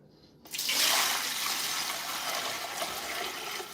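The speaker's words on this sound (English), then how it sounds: "And I'm going to pour this in here." Homemade chicken broth poured from one container into a larger batch: a sudden steady rush of liquid that keeps splashing evenly for a few seconds, close and fairly loud.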